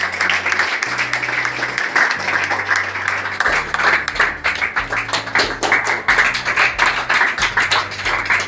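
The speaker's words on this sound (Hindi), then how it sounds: "ताली बजती रहे।" An audience claps steadily at a school coaching-centre award ceremony, a dense continuous patter of many hands with a low steady tone underneath.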